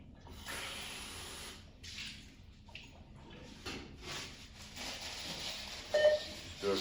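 Tap water runs steadily while lab glassware is rinsed out in a chemistry classroom; a broad, hissing splash continues throughout at moderate, close range, with small clinks and surges near the end.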